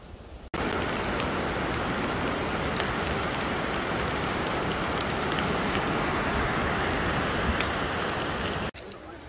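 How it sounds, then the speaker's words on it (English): Heavy, steady rain falls in the Andes Mountains of Peru, a dense, even hiss close by that runs nearly the whole clip without let-up. "And it is raining like it rains in the Andes Mountain."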